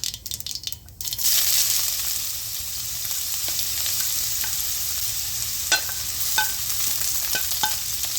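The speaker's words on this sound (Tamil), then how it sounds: "ஒரு டீஸ்பூன் கடுகு போட்டு இந்த கடுகு நல்லா பொரியட்டும்" Mustard seeds spluttering in hot oil for a tamarind ginger pachadi make a loud, close, steady crackling hiss, starting with a few rough handling noises and later punctuated by sharp individual pops.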